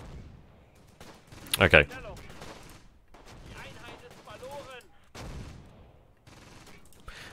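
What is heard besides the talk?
mortar shell fire in video game Close Combat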